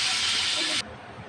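Rohu fish frying in hot oil, a steady bright sizzling hiss that cuts off abruptly partway through, leaving a quieter low sputter.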